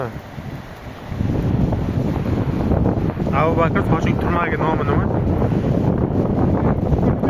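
Strong gusts buffet the microphone outdoors, building into a loud, continuous low roar after the first second while someone talks under the rumble.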